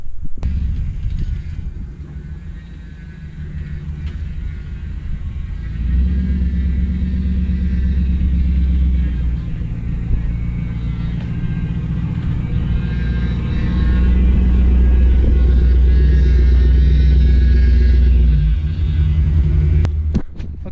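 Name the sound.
pickup truck driving slowly in a pasture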